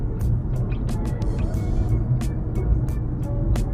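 A VW Polo 1.9 TDI accelerates hard from a standstill, its diesel engine rumbling loud and close in a dense, steady roar, with faint ticking clicks above it.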